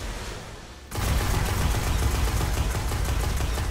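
Rapid sustained burst of auto rifle fire from the Genesis Chain in Destiny, loud and continuous after a brief quieter lead-in, with no talking over it.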